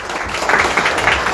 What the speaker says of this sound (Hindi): सब लोग जोरदार तालियां बजाएं योहान पाल के लिए